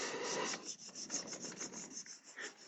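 Steel knife blade rubbed back and forth on a 1000 grit sharpening stone during a rideline restoration, a steady close rasping scrape with repeated strokes, no talking.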